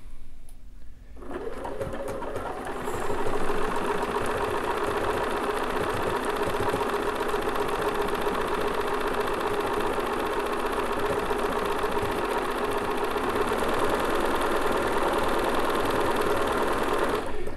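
A Bernina 435 sewing machine stitches a decorative pattern in one loud, steady whir, running without a break after a short start and sitting close to the listener, with no talking over it.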